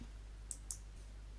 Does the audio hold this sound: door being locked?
no